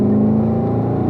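A race car accelerating hard along a road-course track, its engine droning loud and steady with a strong low harmonic hum across the whole brief moment.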